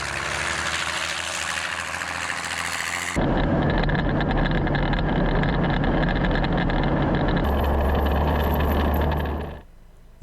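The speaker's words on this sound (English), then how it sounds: "The Russian crews drive at speed away from their firing location before their positions are detected" Russian 2S7M Malka self-propelled artillery vehicle pulling away from its firing position at speed, a loud continuous heavy diesel engine roar with low rumble that shifts in pitch as it drives off, then drops away abruptly at the end.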